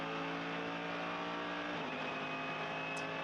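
GT race cars at the Sepang circuit in an Asian GT championship race, a loud continuous engine roar with shifting pitch as cars run at speed, a gear change or lift partway through, no talk over it.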